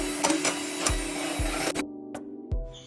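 An electric mixer beats eggs with powdered sugar for cake batter, a continuous near whirring with periodic clunks as the beaters knock the bowl, then the motor cuts out, leaving separate taps.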